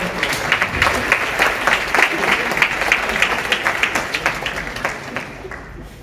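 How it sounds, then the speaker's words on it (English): A conference audience applauds a quiz winner, with sustained, moderately loud clapping from a crowd in a hall that holds steady and then fades out toward the end. "Please give a round of applause."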